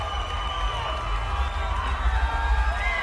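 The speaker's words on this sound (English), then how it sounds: "And the crowd celebrates with Bam Bam Rios." A boxing arena crowd roars and cheers for Brandon Rios after his WBA lightweight title fight with Miguel Acosta, a sustained, loud wash of voices with a deep rumble.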